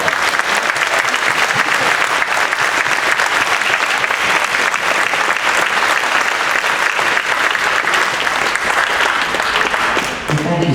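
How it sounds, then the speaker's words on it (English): Audience in a school auditorium applauding at an elementary school spring concert, a loud, steady, sustained sheet of clapping that continues for about ten seconds before easing slightly at the end. "So a big round of applause for Ms. Grumming."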